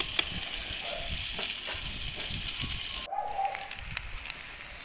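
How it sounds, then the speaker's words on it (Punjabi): Okra and potatoes fry in a pan over a wood-fired clay stove outdoors, giving a steady close sizzle with occasional stirring scrapes and a brief louder hiss as more food goes in. "ਤੇ ਹੁਣ ਜੀ ਆਪਾਂ ਫਰਾਈ ਕਰ ਲਈਏ ਭਿੰਡੀ"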